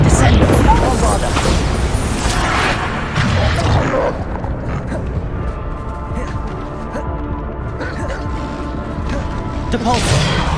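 Bombarda spell blasts in Hogwarts Legacy, heavy booms and crashing impacts mixed with whooshes and other spell effects, loud and close, with a voice speaking over much of the action.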